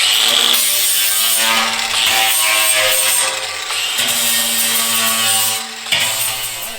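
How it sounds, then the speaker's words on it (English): Angle grinder with a flat disc smoothing the edges of holes in a steel drum for an ugly drum smoker, a loud close steady grinding whine with slight dips as the disc moves between holes. "I've got an angle grinder here with a flat disc."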